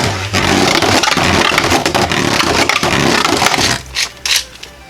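A Beyblade Burst Rise spinning top from the Apocalypse Blade set, Cosmic Apocalypse A5, is launched into a plastic stadium, giving a loud continuous grinding scrape that runs for several seconds, then fades into a few brief clatters.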